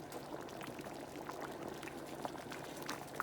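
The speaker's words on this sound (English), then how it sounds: "let this boil for about a good 2 to 3 minutes" Chicken and Italian sausage soup with kale bubbling in a cooking pot, a soft, steady burble with small pops, fairly quiet and continuous, no voices.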